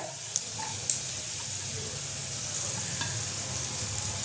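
Chopped green chillies sizzle in a pan while cooking khichuri, with a soft, continuous hiss, punctuated by a few sharp clicks of a utensil.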